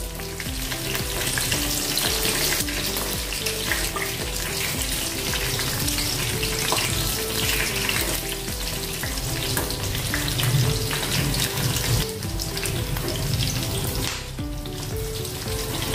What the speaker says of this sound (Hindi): अभी इसी में हम मिर्ची तल लेंगे खाने के लिए।